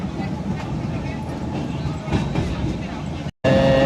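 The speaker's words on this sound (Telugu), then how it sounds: "ఇప్పుడైతే ట్రైన్ ప్లాట్ఫామ్ నెంబర్ 7కి అయితే వచ్చింది" Train pulling into platform 7 at Vijayawada station, a steady low rumble with faint rail clatter throughout, cut by a brief dropout near the end before louder ambient noise returns.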